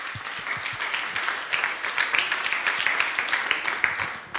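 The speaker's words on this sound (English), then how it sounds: "give a round of applause." Audience applause for kindergarten science fair finalists, a dense continuous crowd clapping sustained at moderate loudness throughout, with no speech over it.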